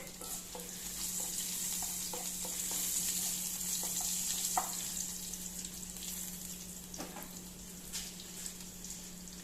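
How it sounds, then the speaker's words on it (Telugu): Dried red chilies fry in hot oil for a mango dal tempering, giving a low continuous sizzle with scattered stirring clicks and scrapes, quiet and close by. "ఇప్పుడు ఎండుమిర్చి వేస్తున్నాను"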